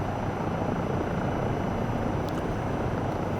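Steady helicopter rotor and engine roar from a sim helicopter in Microsoft Flight Simulator 2024, flying a tour over Glacier Park, loud and continuous throughout with no talk.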